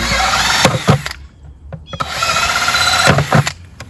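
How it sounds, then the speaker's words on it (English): A power drill whirs loudly in two long bursts, drilling drainage holes in the bottom of a planter, briefly stopping with a few clicks in between, close up. "We're going to just drill a few holes bottom down here"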